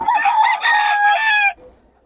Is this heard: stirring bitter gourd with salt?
no